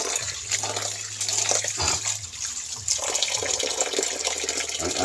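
Dulong, tiny fish, being rinsed under running tap water in a strainer, a steady close splashing rush with shifting gurgles and a low hum underneath, no voices.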